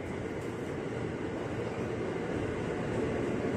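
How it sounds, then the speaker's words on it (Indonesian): A KRL commuter train bound for Bogor pulling into track 4 at Depok station, a steady loud rumble and roar of rolling wagons that holds level and swells slightly near the end, with no voices. "Nah ini masuk juga komuternya tujuan Bogor."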